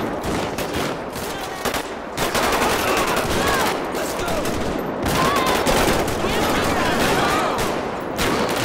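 Continuous close gunfire rattles through a gang shootout in GTA 5, with dense automatic bursts and overlapping shots throughout.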